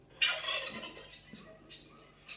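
A turkey gobbles once in a quick, bright warbling burst, played as a recording in an animal-sound guessing game, fairly faint and followed by low background murmur.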